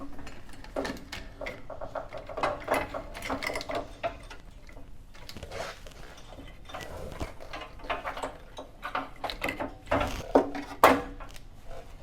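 An A/C condenser being slid back into a 2006-10 Dodge Charger R/T: close scraping, knocking and clunking of parts shifting into place, with faint voices at times.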